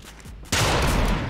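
Gunfire in the Fortnite zero-build squad mode: after quiet background, a loud, dense burst of shots erupts and keeps rattling continuously to the end, close and sustained.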